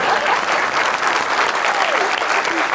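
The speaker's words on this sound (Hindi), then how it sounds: "तालियां हो जाए।" A studio audience on a Pakistani comedy talk show claps together, a dense burst of applause that fills the short moment at full strength from start to finish.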